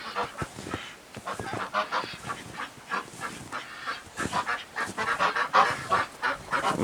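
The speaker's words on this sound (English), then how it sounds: "I think you can hear the ducks in the background." Ducks calling on a farm on a winter morning in Hamilton, NY, with chickens and a rooster nearby: repeated loud honking quacks in irregular bursts, some close and some overlapping, with no talking.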